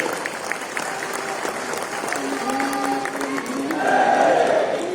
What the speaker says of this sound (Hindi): ताली बजाकर भगवान का सम्मान कीजिए।